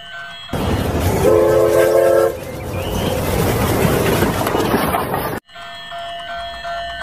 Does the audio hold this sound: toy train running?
yes